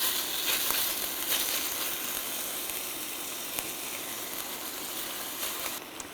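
Thin steak sizzling in avocado oil in a skillet: a steady, even crackling hiss that stays level throughout with occasional tiny pops, close and moderately loud, no talking.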